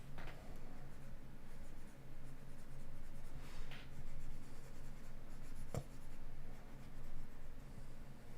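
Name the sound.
stylus pen drawing on a Cintiq tablet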